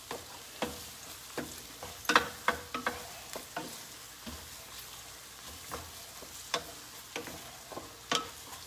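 Garlic and onions sauté in a pan for beef, bacon and beer pasta, a soft steady sizzle broken by repeated sharp scrapes and clicks of a utensil stirring, fairly close and without talk.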